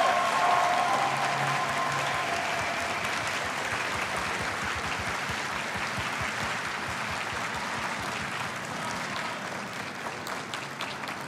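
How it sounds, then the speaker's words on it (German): A large audience at a DreamHack esports event gives sustained, dense applause that begins loud and tapers slightly over about eleven seconds, with no one talking. "Gerne einen letzten Applaus für die Spandauer Legenden."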